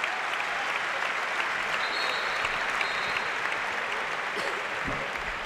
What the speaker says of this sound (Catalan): Ovació de la Fonteta